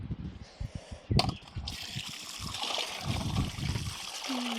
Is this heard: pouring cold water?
yes